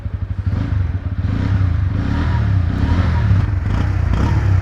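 The underbelly exhaust of a Bajaj N160 motorcycle idles with a rapid thumping pulse, then revs up into a louder, sustained engine roar, close to the microphone.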